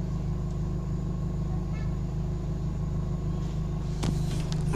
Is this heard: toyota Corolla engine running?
yes